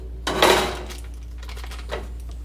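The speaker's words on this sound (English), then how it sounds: "I'm gonna use butter to oil the pan." A pizza pan being handled while it is greased with butter, giving a close metallic clatter and scrape followed by a softer second knock over a low steady hum.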